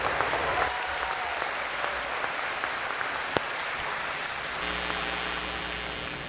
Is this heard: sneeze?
no